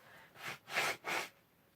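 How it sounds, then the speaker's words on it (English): Three short, breathy blasts of someone blowing their nose nearby, each lasting about a quarter second and growing slightly stronger, in a quiet indoor room. "I'm just going to blow my nose"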